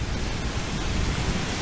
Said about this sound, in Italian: sta piovendo tantissimo